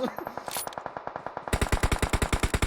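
Rapid automatic gunfire in the mobile battle-royale game PUBG Mobile, a steady stream of close, punchy shots that grows louder and denser partway through, with no talk over it.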